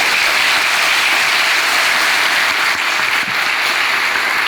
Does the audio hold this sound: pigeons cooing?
no